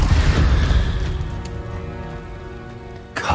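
An Incendio fire spell cast in Hogwarts Legacy bursts out as a loud, low whooshing blast that slowly fades, with a second sharp hit near the end.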